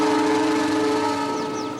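A locomotive whistle sounded by the engineer from the cab, a steady sustained tone held close and loud, fading slightly toward the end.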